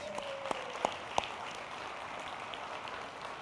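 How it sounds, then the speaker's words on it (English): A round of applause from the audience at a township state-of-the-township address, a steady wash of many hands clapping with a few sharper nearby claps early on. "Let's give her a round of applause"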